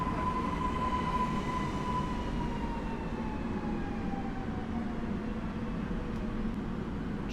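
A Koleje Śląskie passenger train bound for Gliwice rolls through Sosnowiec Główny station with a continuous heavy rumble and a thin, slowly falling squeal over it, steady and fairly near.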